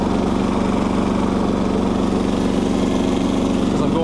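Tractor engine geared down and running steadily while towing a herbicide weed sprayer, a continuous loud low mechanical drone with even throb that holds throughout, close by, with no speech.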